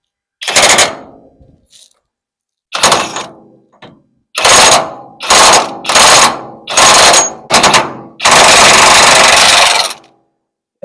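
A Kobalt half-inch cordless impact wrench hammers out a bolt in loud, close bursts: a short burst, a pause, then five rapid rattling bursts and a final longer sustained run.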